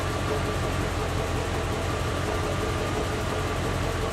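A 1986 Corvette L98 engine idles steadily with a constant, even rumble and no breaks, close to the microphone.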